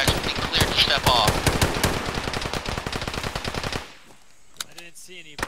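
Heavy automatic gunfire from the video game Arma 3 in a jungle setting, loud rapid bursts rattling continuously for about four seconds, then breaking off into quieter scattered shots and faint voices.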